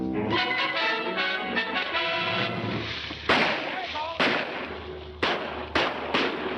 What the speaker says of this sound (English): Why are they shooting at him?